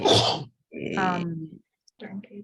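A sudden sharp sneeze bursts out, followed by a person speaking briefly nearby.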